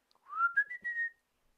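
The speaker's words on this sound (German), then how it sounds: "Da pfiff das Männlein." A single clear whistle from a person, gliding upward and then holding a steady bright tone before stopping, alone in a quiet space.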